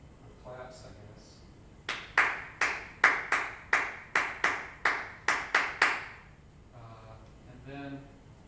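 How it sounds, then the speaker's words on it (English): Roughly a dozen sharp hand claps or taps struck in a steady, evenly spaced run at close range, each with a quick decay, with brief murmured talk before and after. "just record some taps, or claps"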